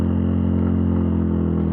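A Bajaj Pulsar P150 single-spark motorcycle cruising in fourth gear, its engine giving a steady, close, low throbbing hum with an even pulsing rhythm throughout.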